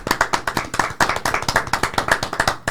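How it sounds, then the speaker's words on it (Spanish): An audience bursts into rapid, fairly close applause for a guest being welcomed at a Spanish-language interview, with sharp, dense hand claps running steadily throughout. "Recibámoslo con un fuerte aplauso."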